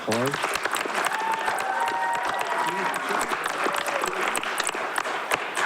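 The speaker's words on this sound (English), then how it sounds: "And we'll do one more round of applause." A crowd at a town council meeting gives a round of applause for Students of the Month, with sharp close claps over a steady clatter and voices talking through it.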